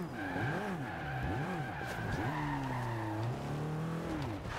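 In the racing game Forza Horizon 2, a car's engine revs rise and fall before hard braking brings a long tire squeal and skid, close and clear with no talking.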